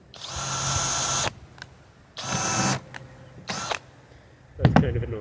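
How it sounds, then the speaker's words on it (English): A power drill drives a bit through wood for a chicken coop foundation, heard in three whirring bursts of about a second each, the third shorter, followed by a brief clack and rattle. "I push forward to put the drill bit through, reverse it to pull the drill bit out"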